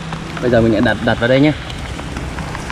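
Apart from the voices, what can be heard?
heavy rain outdoors in a field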